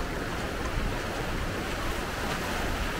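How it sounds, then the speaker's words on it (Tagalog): Strong ocean waves break on Boracay beach in a constant, loud wash of surf with wind noise buffeting the microphone and no voices. "Malakas lang talaga yung alon pero yung temperature ng water hindi ka lalamigin"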